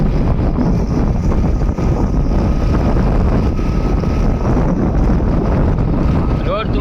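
A motorbike cruises along a smooth road while loud, constant wind roars across the microphone over a low engine rumble throughout.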